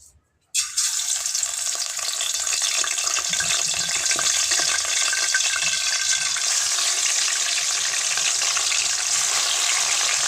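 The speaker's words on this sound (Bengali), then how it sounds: "মাছগুলো ভাজার জন্য এই দেখুন কড়াই বসিয়ে দিয়েছি, এর মধ্যে সরিষার তেল দিয়েছি।" Silver carp pieces dropped into hot mustard oil in a wok burst into a loud, steady sizzle that holds at full strength without a break, after a brief quiet moment at the start.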